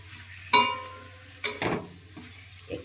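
Cabbage, capsicum and onion being tossed into a hot pan, two sharp bursts of sizzle as the vegetables land, then a quieter crackle with faint utensil clinks.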